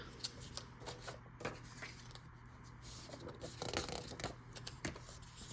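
Paper prop money bills of mixed thickness handled and counted, a soft run of riffling, flicking and rustling at close range, quiet and uneven, with no talk.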